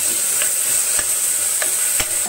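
Onion and tomato sautéing in a covered pan, a steady broadband sizzle with a few soft stirring knocks as the lid comes off, close and alone.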